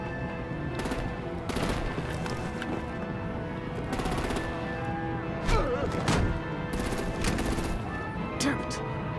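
Rapid bursts of gunfire and heavier explosive blasts from a Telltale Batman video game combat scene, dense repeated volleys with crashes and impacts, with voices speaking at times over the fighting.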